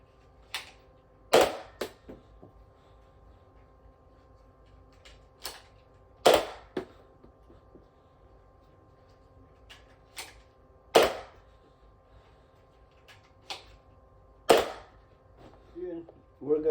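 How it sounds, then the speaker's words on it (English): Adventure Force Cricket Pro toy blaster firing single Adventure Force Ember darts, five sharp snapping shots spaced a few seconds apart with softer clicks of priming and handling between them over a faint hum. "Shooting one dart at a time with the Adventure Force Ember darts."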